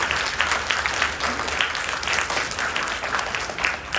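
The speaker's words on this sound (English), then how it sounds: "Let's give Ms. Bradley's class a round of applause." An audience at a first- and third-grade school pinning ceremony claps steadily for a class, a dense, even patter of many hands sustained throughout.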